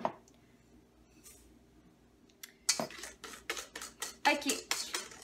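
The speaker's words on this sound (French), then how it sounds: "avec un fouet, on va fouetter les jaunes d'œufs, les 4 jaunes d'œufs," Four egg yolks being whisked with sugar for chocolate mousse: after a quiet start, a rapid run of sharp, rhythmic clinking strokes of the whisk against the bowl, close and fairly loud, with no talking.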